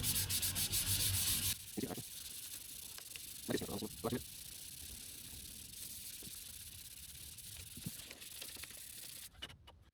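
Fine 800-grit sandpaper worked over body filler on a Mazda MX-5 Miata during respray prep, with a steady near rasp at first, then quieter intermittent strokes.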